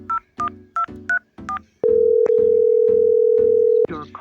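A telephone call being dialed, with a quick series of about five keypad tones followed by a long, loud, steady tone lasting about two seconds, then a brief voice at the end.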